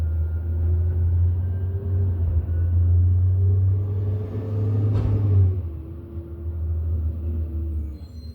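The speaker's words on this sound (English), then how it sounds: "that's a garbage truck picking up the trash" A garbage truck picking up trash outside, its heavy diesel rumble steady and loud throughout, with engine pitch shifting and a brief sharper mechanical burst midway as the load is handled.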